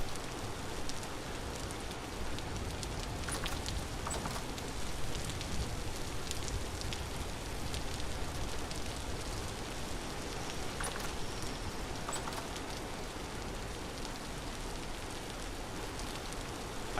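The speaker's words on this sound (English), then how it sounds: "Why do I still hear the rain so hard?" Steady, dense rain hiss from the Vintage Story video game, loud and continuous throughout with faint scattered drop ticks, no voices.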